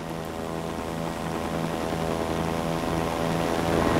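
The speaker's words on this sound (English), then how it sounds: "Can you take out the chopper?" A helicopter flies in the video game Arma (Takistan Life), a continuous droning engine and rotor hum that slowly grows louder as it approaches, with no voices.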